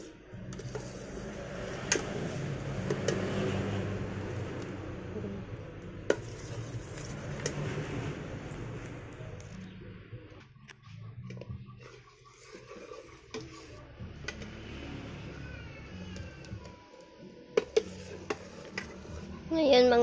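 Thick mulberry jam stirred in a cooking pot, heard as an ongoing scraping and knocking of a ladle against the pot, close and uneven, with occasional sharper taps and a muffled voice at times.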